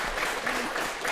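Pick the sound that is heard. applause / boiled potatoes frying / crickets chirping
applause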